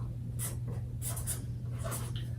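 A marker scratches across paper while a word is written out for a pre-K reading lesson. Close, quiet squeaky strokes come in several short bursts, with no talk.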